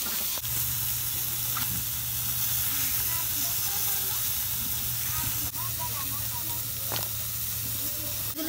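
Fish frying in a pan, turned over to cook the other side, gives a steady, close sizzle and hiss with a constant low hum beneath and a few faint clinks.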